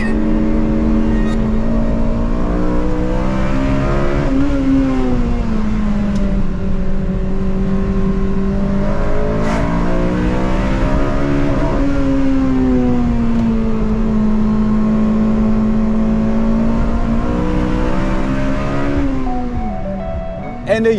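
A Honda Civic Mugen RR's naturally aspirated engine rises and falls through long sustained revs, a loud rasping wail climbing in pitch then easing back, with voices talking over it in places.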